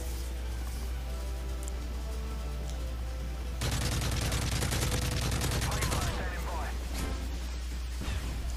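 Gunfire from the video game Modern Warfare 3 erupts as a dense rapid burst of automatic shots over a constant game soundtrack hum, loud and sustained for a couple of seconds, then fading to scattered pops.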